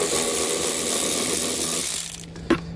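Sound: 10 mm socket wrench loosening a bolt on a car panel

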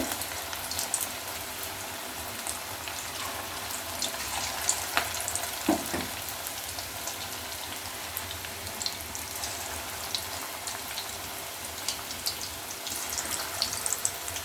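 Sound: bread pakoda frying in oil

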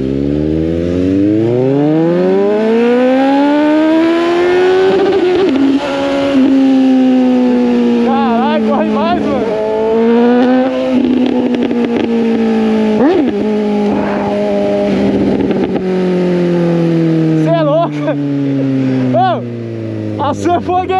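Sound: Honda CBR 650R motorcycle accelerating hard

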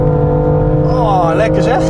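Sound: BMW M2 Competition car engine accelerating through gears

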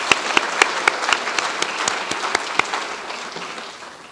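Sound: audience round of applause at ceremony

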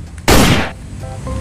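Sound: toy pistol gunfire sound effect

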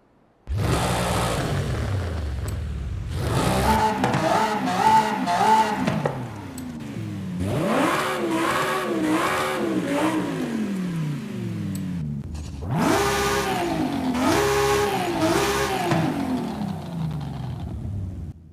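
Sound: Audi RS7 Sportback engines revving in Forza video game

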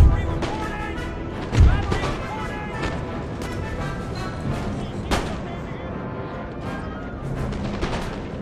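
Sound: artillery cannon fire in the video game Empire: Total War

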